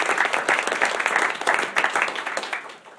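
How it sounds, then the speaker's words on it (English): A room full of people claps at a Novi Community School District board of education meeting, the applause loud and continuous before tapering off at the end. "let's give our parents, guardians, family, and friends a round of applause as well."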